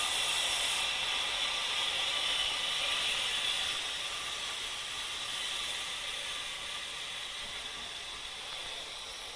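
Vacuum forming machine pulling vacuum on a heated plastic sheet, a steady loud hiss and mechanical rush that holds nearly constant for the whole stretch, easing slightly after a few seconds, with no talk.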